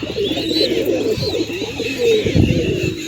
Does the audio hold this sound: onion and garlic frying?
no